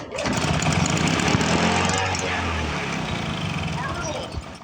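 A 1986 Toro lawn mower with a rare two-stroke Suzuki engine runs close by, giving a loud, rough burbling drone that slowly eases off over several seconds, with a voice speaking over it.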